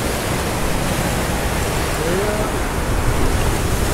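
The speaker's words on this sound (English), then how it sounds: "there's a big wave coming to your left there" Surf rolls in at a Caribbean beach, a steady loud wash of waves with wind noise and no clear breaks.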